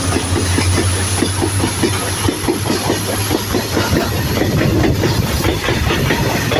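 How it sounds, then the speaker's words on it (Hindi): A long goods train rolling past near the railway on a walk toward Dudhsagar waterfall in Goa, a loud continuous rumble with rhythmic clickety-clack of wheels over rail joints and a steady hiss, close by and alone. "ये देखिए, अभी ये गुड्स ट्रेन आ रहा है।"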